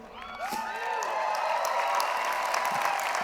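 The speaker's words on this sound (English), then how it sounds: "let's give a round of applause" A large outdoor crowd at a university commencement applauds continuously, building within the first half second and holding steady, with faint whistles and cheers rising through it.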